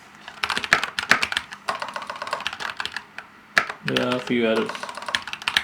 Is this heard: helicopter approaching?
no